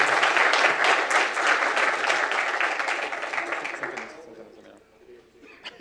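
An audience applauds at a Le Wagon Demo Day in São Paulo, loud dense clapping that fades after about four seconds into quieter murmurs and scattered claps, with some chatter and laughter.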